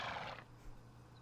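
A female horse whinnies in the role-playing game Dragon Quest VIII, a single short, fairly quiet neigh that fades into a low steady hum.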